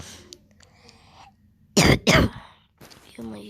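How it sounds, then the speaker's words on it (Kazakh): Two sharp, loud coughs close to the microphone, one right after the other, set against quiet rustling and brief faint sounds. "Жөтел қаптым ғой."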